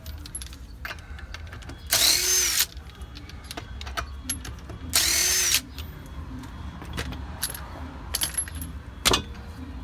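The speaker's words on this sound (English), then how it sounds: "I'm gonna take off the lug nuts. You can do this with a ratchet." Lug nuts come off the wheel of a 2016 Toyota RAV4 XLE, with two loud, buzzing bursts of a power tool among metallic clinks, rattles and clatter of parts in a garage.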